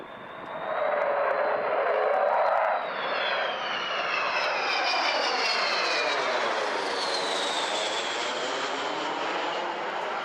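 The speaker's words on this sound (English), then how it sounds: "Avro Vulcan." Avro Vulcan bomber passing with its jet engines roaring loud, a broad rushing howl with a high whine that sweeps in pitch as the aircraft goes by, steady and continuous.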